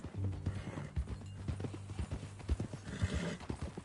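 Horse hooves clip-clop at a steady walking pace in the western video game Red Dead Redemption 2, a close rhythmic thudding over a low ambient hum, with a brief whinny and no talk.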